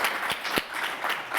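Light, scattered clapping from a panel event audience, a few separate claps standing out over a faint wash of applause, subdued and brief.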